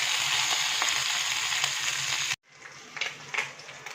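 Curry leaves frying in hot coconut oil give a loud, dense sizzle that cuts off abruptly, then returns softer with crackling bursts.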